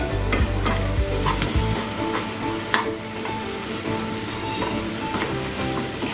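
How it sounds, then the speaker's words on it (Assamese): Peanut and chili paste sizzles steadily in a pan over a low flame while a utensil stirs and scrapes through it, with no voices. "এইখিনি মই এতিয়া লো ফ্লেমতে ফ্ৰাই কৰি আছোঁ"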